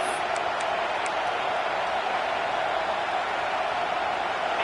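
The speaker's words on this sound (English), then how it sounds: "how nice is it to have the home crowd going absolutely bananas?" Home crowd roaring steadily at a college football stadium during an Oklahoma State versus ASU game, a dense, continuous wash of cheering and noise with no breaks, loud and close throughout.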